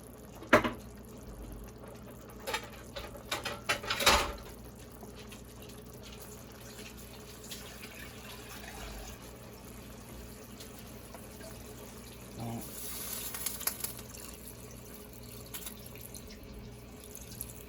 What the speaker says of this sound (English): Add a little water to it real quick.